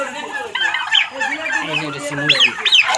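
Five-month-old adult male turkey on an intensively reared farm, calling with a run of loud, close gobbling and squawking bursts, several rising sharp notes near the end, over faint background voices.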